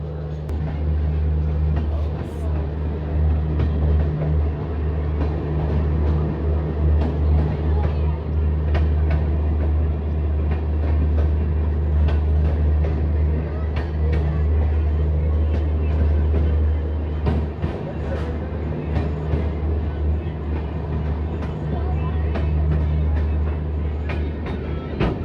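Intercity Express train hauled by a WDP4 diesel locomotive pulling out of Malout railway station, with a steady low rumble and rolling wheel noise heard from on board, continuous and fairly loud throughout.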